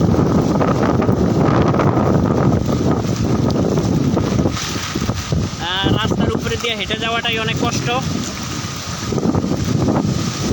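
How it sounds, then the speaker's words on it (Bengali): Strong wind gusting over a road flooded by tidal water, buffeting the microphone in a loud continuous roar, while someone talks over it. "বাতাসের প্রচুর পরিমাণে গতি বাতাসের আজকে"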